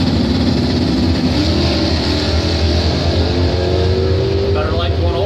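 A 1971 Nova SS old-school drag racing car roars loudly and continuously at a drag strip finals event, its engine note rising under an announcer's voice.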